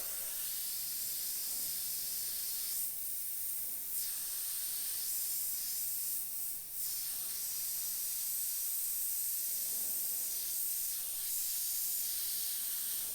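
An airbrush spraying paint through AirShot skull stencil templates: a continuous close hiss of air and paint that swells and eases in a few long passes, with no talking.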